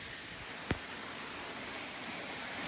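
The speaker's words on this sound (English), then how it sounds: "And we're over here by the waterfall." A steady broadband rush of a waterfall in the Sipsey Wilderness fills the scene, continuous and fairly loud, with one brief low thump partway through.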